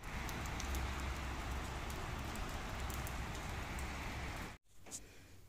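Rain falls in Dubai with a steady, even hiss of drops on surfaces. It is fairly close and constant, then cuts out abruptly near the end, leaving a quieter patter.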